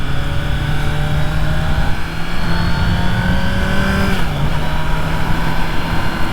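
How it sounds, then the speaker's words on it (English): A 2023 Kawasaki Z900 motorcycle engine revs steadily and loudly up close, holding a strong, continuous drone with a slight dip in pitch near the end. "it almost sounds sport bike-ish once you start getting about 6 grand"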